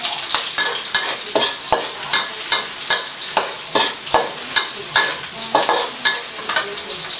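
Garlic and onion frying in a pan for shrimp fried rice, a hissing sizzle punctuated by regular scraping strokes of a spatula stirring, close and loud, with no voices.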